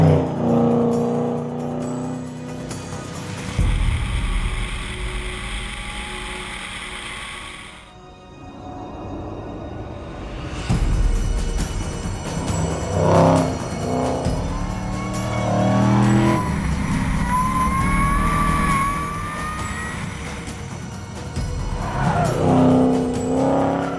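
A Roush supercharged Ford Mustang V8 with reworked intake manifolds, recalibrated ECU and a free-flowing exhaust roars loudly on the Swartkops circuit, its note rising and falling through several passes with tyre squeal and a brief lull midway.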